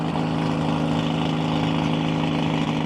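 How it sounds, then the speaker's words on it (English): A small gasoline pony engine, used to start a diesel engine on antique earth-moving machinery, runs steadily at idle, a continuous droning hum with a low buzzing rumble, close and unchanging throughout. "So what you hear running right now that's a little louder is a little gasoline engine."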